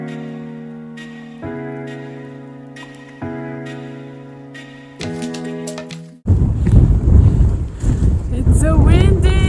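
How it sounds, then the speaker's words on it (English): Strong gusty wind buffets the microphone on the Pacific Crest Trail near Hikertown, a loud low roaring rumble that bursts in halfway through after several seconds of steady tonal humming. "It's so windy!"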